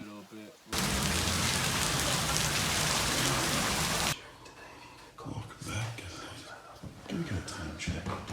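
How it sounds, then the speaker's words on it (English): Rain pours in a dense, loud hiss for a few seconds during the rainy season in South America, then drops away abruptly, leaving quieter room sounds and soft voices talking. "Raining again."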